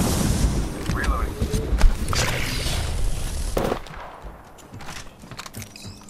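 Gunfire crackles in the battle royale video game Apex Legends: rough, dense bursts of shots and impacts over the first four seconds, louder around the second mark, then thinning out against quieter game noise.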